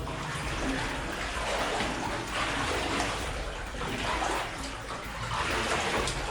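Continuous rushing of water falling in a mine tunnel, a dense splashing roar that swells and eases slightly, echoing in the enclosed space.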